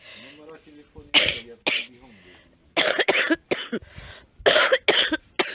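Repeated harsh human coughing fits, close and loud, broken up by short pauses and some voiced sounds.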